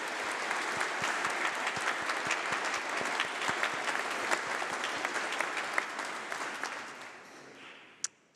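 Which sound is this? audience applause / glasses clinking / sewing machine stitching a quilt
audience applause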